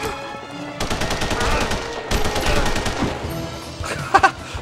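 Gunfire rattles in a Punisher video game: several loud bursts of rapid automatic shots separated by brief pauses, ending with a couple of sharp metallic clinks.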